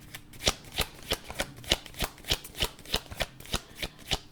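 Tarot cards being shuffled by hand, a brisk regular run of crisp riffling slaps, about three per second, close and clear with no talking.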